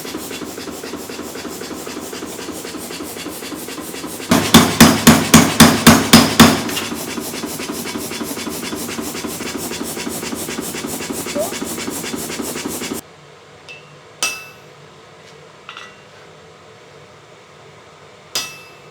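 A hammer forges metal stamens for a poppy: a quick burst of about eight sharp, ringing blows, then steady mechanical clatter, followed by a quieter pause with a few isolated metallic strikes.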